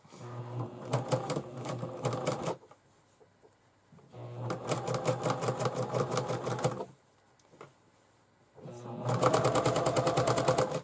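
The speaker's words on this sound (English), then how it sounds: "Sew the lace on." A sewing machine stitches lace onto a handmade fabric bag in three loud, steady runs of rapid mechanical clatter, each lasting a couple of seconds and separated by short quiet pauses.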